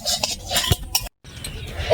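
A spoon stirring fried mango pickle in a cooking pan, with quick scraping and clinking strokes in a steady rhythm, close and clear, broken by a brief pause near the middle.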